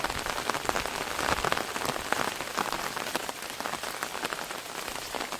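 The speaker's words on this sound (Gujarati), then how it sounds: "અને કન્ટિન્યુ હજી ચાલુ છે વરસાદ તમે જુઓ" Heavy unseasonal rain pouring onto farmland in the Gir area, a dense, steady patter of drops hitting surfaces close by, continuous with no pauses.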